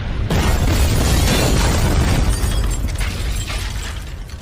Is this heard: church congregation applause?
no